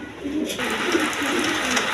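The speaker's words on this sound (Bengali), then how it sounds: "এখানে আরেক পেয়ার সবজি কালার আপনার দামাচি কবুতর আছে, একদম কোয়ালিটি ফুল কবুতর।" A pair of vegetable-colored Damachi pigeons coo in soft, rolling low calls repeated several times at close range, over a steady background hum.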